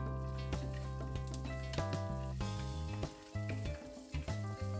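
Peanuts and cashews sizzling in hot tempering oil with turmeric while quinoa upma is being made, a steady close frying crackle with bright pops throughout, no talk.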